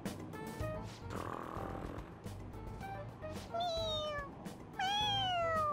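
The cat Morgana in the video game Persona 5 Royal makes repeated meows and snoring, snorting sounds, with rising and falling cries that grow louder toward the end over a low game background.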